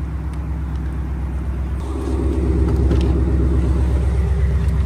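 Ford Mustang tuned on E85 under way, a steady low engine rumble with road noise throughout that swells and grows louder midway as it accelerates, no talk.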